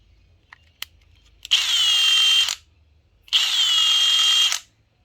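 A Milwaukee cordless impact driver whirs in two separate bursts of about a second each, close and loud, with quiet pauses and small clicks between.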